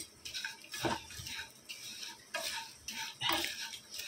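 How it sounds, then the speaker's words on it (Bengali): Flattened rice (chira) and peanuts being fried in a pan, with a spoon scraping and stirring in uneven bursts over a faint sizzle, close and moderately loud, no voices. "আর চিড়ে বাদাম ভাজা।"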